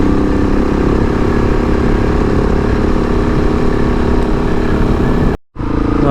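KTM 690 Enduro R single-cylinder motorcycle engine drones steadily at cruising speed on a mountain backcountry ride, loud and continuous, with a brief cutout near the end before resuming.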